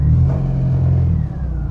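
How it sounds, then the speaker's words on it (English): A 1999 Jeep Wrangler with 48,000 miles idling and rumbling as it shifts into reverse, a steady low engine hum close by with a slight rise in revs. "Now let's take the car for a little test drive. So we'll put it in reverse and show you."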